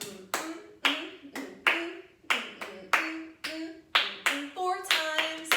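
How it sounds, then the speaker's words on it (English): Hands clap out a rhythm pattern in a lesson setting, a series of sharp, close claps in uneven groupings, with brief vocal sounds between some of them. "So we're just going to clap our rhythm pattern out first."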